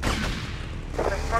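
Police gunfire in GTA Vice City, a loud, dense fusillade of rapid shots and booms filling the whole moment, up close.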